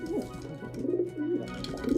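A pair of doves coo softly and repeatedly nearby, low rounded calls rising and falling with no voices present.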